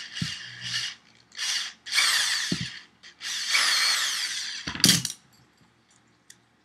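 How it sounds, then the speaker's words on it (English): A power drill bores a 1/4 inch hole in the top of a Game Boy, several short high-pitched whining bursts of drilling into plastic separated by pauses and small clicks. "drilled the 1/4 inch hole in the top of the Game Boy"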